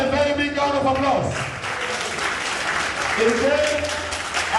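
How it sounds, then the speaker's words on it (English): A crowd applauds at a Mende naming ceremony in Sierra Leone. A dense wash of clapping swells through the middle, while voices and tonal singing or calling sound over it at the start and end. "Ladies and gentlemen, a very big round of applause."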